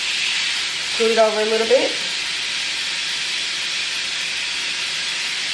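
Hamburger patties sizzle loudly in a skillet, a continuous bright frying hiss that runs from start to finish while a person speaks briefly over it.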